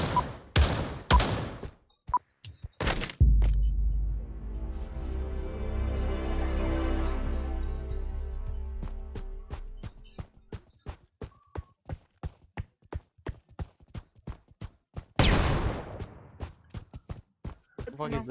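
Rapid gunfire at windows in Pavlov VR, with loud sharp shots up close, a sustained ringing tone in the middle, then a long run of evenly spaced quick shots.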